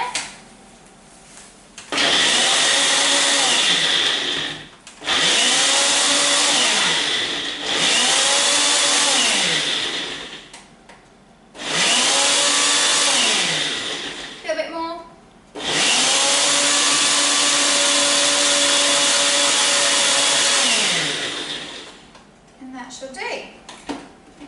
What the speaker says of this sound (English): you can use a blender or you can use a bullet or a ninja if you have one